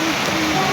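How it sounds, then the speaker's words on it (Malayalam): Heavy rain pours down in a steady, loud broadband hiss, continuous and close with no pauses or voices. "നല്ല മഴ കേട്ടോ കൂട്ടുകാരെ"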